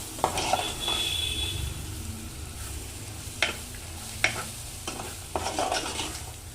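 Spiced egg fry with chicken masala and coriander powder sizzles in a pan while a spoon stirs it, giving a low steady fry under a few sharp scraping knocks against the metal, close and with no talk.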